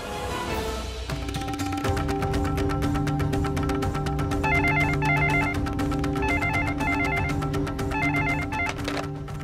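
A telephone rings with a patterned, musical ringtone for several seconds, loud and steady, alone without voices, before someone answers the call.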